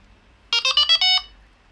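A Delkim bite alarm powering on gives a quick run of about five sharp electronic beeps, close and clear, with no talking over it.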